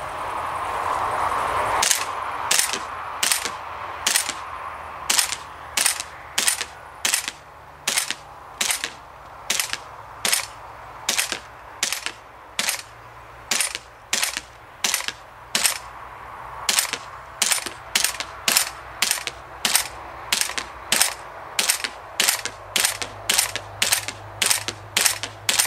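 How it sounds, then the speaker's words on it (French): A WE SCAR gas blowback airsoft rifle firing single shots, about forty sharp, evenly spaced cracks with a crisp mechanical snap, steady and close, continuing until the gun runs dry, no talking. "On tire la culasse, on met un coup par coup et on y va."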